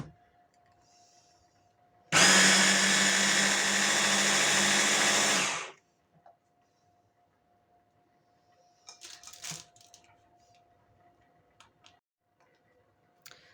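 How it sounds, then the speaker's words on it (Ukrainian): A blender whipping a homemade cheese mixture roars loudly for about three seconds, then stops, followed by quiet with a few faint clinks and taps. "Всю цю масу, яку ми за три заходи збили блендером"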